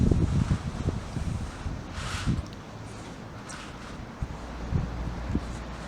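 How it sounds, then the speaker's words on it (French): A strong south-westerly gale blows outdoors in Loudéac, Brittany, in February. Gusts buffet the microphone in rumbling waves, with rustling and a few brief knocks over a constant roar. "je vous montre déjà la puissance du vent à 13 h aujourd'hui"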